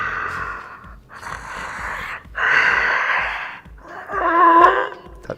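A voice imitating demonic heavy breathing for a horror film, four long, close, rasping breaths with growling, moaning inhales and exhales separated by short pauses.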